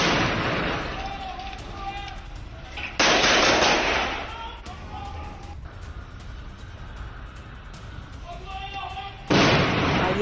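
Gunfire and blasts during an IDF attack in the West Bank: loud broadband bursts stand out at two moments, with rattling fire and a steady noisy rumble in between.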